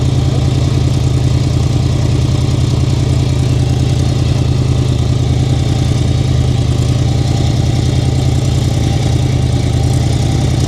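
A Can-Am off-road vehicle's engine runs at a constant, loud, close drone with a hollow, boat-like hum. The sound is unbroken and nobody talks.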